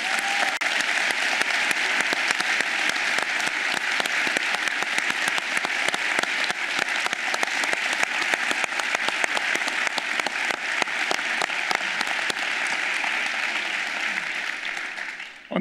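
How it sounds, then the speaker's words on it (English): A large conference keynote audience claps loudly and continuously, a dense sustained roar of hands that holds steady for about fifteen seconds before tapering right at the end. "So if you can give yourselves just a massive applause."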